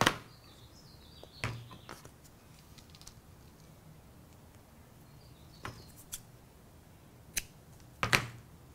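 Scissors snipping sewing thread at a craft table, a few crisp, sharp clicks spaced apart, close and fairly quiet against a soft background hiss.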